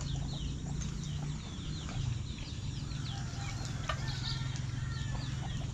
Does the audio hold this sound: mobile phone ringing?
no